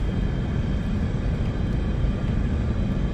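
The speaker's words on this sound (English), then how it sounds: "I've got 2 planes chasing me." Jet engines of an Italian F-104 and pursuing planes in a War Thunder simulator battle, a steady loud broadband roar that holds constant throughout with no talking.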